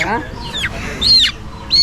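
A black Kadaknath chicken squawks in a few sharp, loud bursts close by, with short pauses between the calls.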